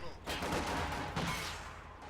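Gunfire from a World War II real-time strategy battle, with anti-tank rifles firing on grenadiers: a continuous, moderately loud rattle of overlapping shots and muffled explosions, with brief swells near the start and middle.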